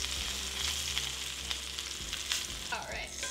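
Roast beef sears in a hot pan, a dense and continuous close sizzle that holds steady for a few seconds, with a brief shift in tone near the end and no one speaking.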